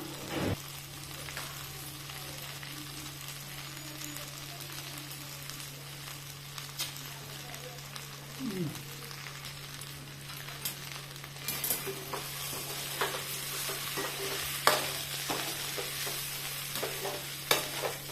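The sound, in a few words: stirring eggplant frying in a pan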